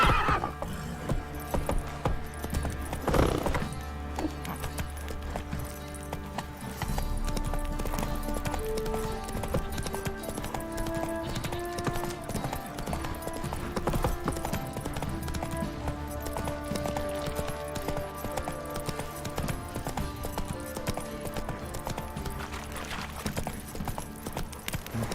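Roach the horse from The Witcher 3 game runs with steady clip-clop hoofbeats and an occasional whinny, heard up close over continuous music and game ambience.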